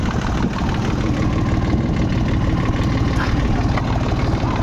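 A Dongfeng 244 tractor pulling a homemade plough through a field, its diesel engine running in a steady, loud, continuous drone with rough low-end throb throughout.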